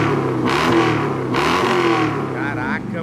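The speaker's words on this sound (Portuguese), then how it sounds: "Agora o ronco desse carro aqui me surpreendeu" A Dodge Challenger's engine revs loudly nearby, a deep throaty roar that swells and rises in pitch across a few throttle blips while people talk excitedly over it.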